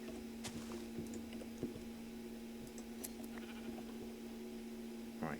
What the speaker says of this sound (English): There's a sheep over here